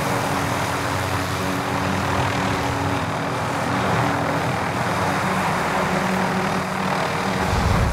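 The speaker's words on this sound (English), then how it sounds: "Yeah, chopper." Helicopter flying overhead in Call of Duty: Modern Warfare, a dense continuous rotor and engine roar with low pulsing rumble that holds steady and close for several seconds, no voices.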